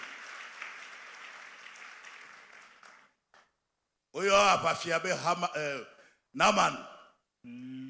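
A church congregation claps at a Sunday service, the applause fading out, then a few words follow and bursts of loud cheering rise over and around them.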